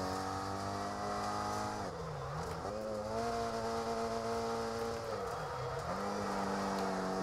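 A rally car engine in the DiRT Rally 2 racing game drones steadily, its pitch dipping and rising twice as the driver lifts off and accelerates again, loud and continuous throughout with no talk.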